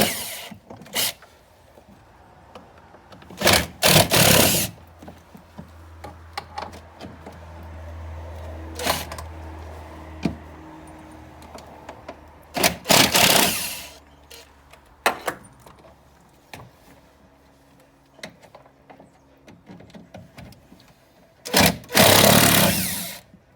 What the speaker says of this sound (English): I'm gonna use my T25 of the 6-inch extension in my Makita